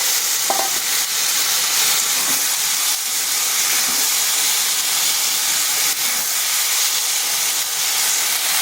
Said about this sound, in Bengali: পেঁয়াজটাকে হালকা একটু ভেজে নেব। এরপর দিয়ে দেব জল ঝরিয়ে রাখা কচুগুলো।